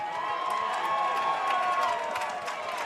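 Marquette fans cheering at a high school baseball state championship game after a home run, a steady roar of crowd noise heard from a distance with scattered shouts throughout.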